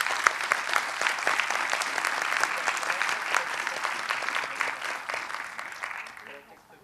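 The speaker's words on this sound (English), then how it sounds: "Ladies and gentlemen, please join me in thanking Eliane, Vinay, Anir, and Deshni" A festival audience applauds the speakers after a panel discussion on AI. The clapping is full and steady, then gradually tapers and fades out at the close.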